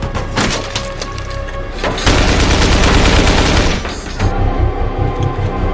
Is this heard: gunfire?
yes